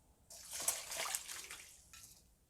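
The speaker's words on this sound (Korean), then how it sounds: "뜨거운 물을 좀 포트에다가 끓이셔서 그냥 이렇게 좀 데쳐주시면 좀" Hot water from a kettle is poured over hijiki seaweed to blanch it, a soft close splashing pour lasting about a second and a half, then a brief second trickle.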